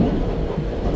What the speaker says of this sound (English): Shatabdi Superfast Express is arriving at platform number 1.